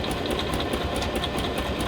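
A light Oekaki sewing machine stitches the reinforced ends of a buttonhole, a fast steady mechanical whirring with rapid rhythmic needle clatter, close and continuous.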